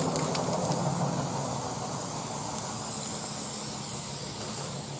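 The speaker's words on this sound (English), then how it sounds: "it's easiest just to spray paint that black" A steady, close hiss of an aerosol can spraying black paint onto prop tree limbs, running continuously for several seconds, broad and even with no pauses.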